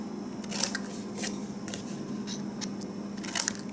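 Scissors make a few quick, close snips through paper, cutting the ends off a paper treat holder, with faint rustling in between and no talking.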